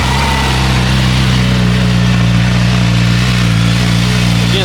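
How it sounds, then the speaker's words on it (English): A motorcycle with a Brox Pentacarbon full carbon exhaust and a de-restricted ECU tune runs close and loud with a deep, throaty exhaust drone that swells slightly as it revs, with no voices. "I had the stock exhaust replaced with a Brox Pentacarbon full exhaust"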